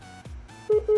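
Telephone dialing tones from a phone used inside a Windows 7 virtual machine: a couple of soft clicks followed by two short, clear steady tones, with no talk.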